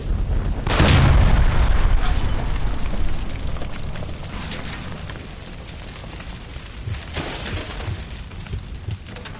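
In L.A. Noire, a gas line blows up with a sudden, heavy boom, then a long roaring rumble of fire and debris that slowly fades, with a few later crashes.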